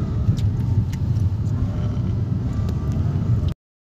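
A car engine with a misfire, running just after its four ignition coils were replaced, gives a steady, close, low rumbling idle with a slightly uneven pulse throughout, then cuts off abruptly.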